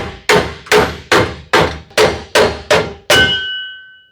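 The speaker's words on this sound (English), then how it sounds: "take a hammer on the back side of that end condition head, maybe the back side of the actuator bracket" A hammer strikes the back of a slide rack end condition head seven times at a steady pace, each blow a sharp metallic clang with a short decay, the last one ringing longer.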